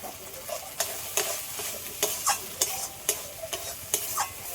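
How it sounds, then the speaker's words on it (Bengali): Spice paste fries in oil in a pan for a Bengali stuffed pointed gourd dish, a soft steady sizzle broken by regular sharp scraping strokes of a spoon stirring, close and alone. "মশলাটা ভালো করে কষিয়ে নিয়েছি তেল ছেড়ে দিয়েছে"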